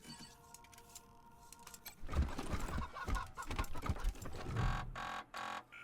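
Chickens cluck in Wasteland 3, a few sharp clucking bursts rising from a quieter start, irregular and fairly close, with tonal background sounds early on.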